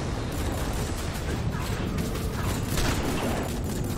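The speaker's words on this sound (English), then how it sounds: "Holy crap, they're actually shooting at me." Gunfire in the video game Rogue Trooper, a continuous dense crackle of rapid shots and distant booms at steady loudness, with no clear talk.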